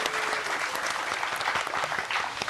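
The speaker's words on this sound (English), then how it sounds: "You deserve some applause." Steady applause from an audience at a school event, dense clapping sustained at an even level for the whole span with no speech over it.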